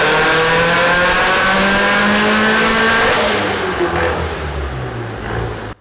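A tuned turbocharged Nissan Silvia S15 revs hard on a dyno pull, the loud engine note climbing steadily and then easing off near the end, alone without talk.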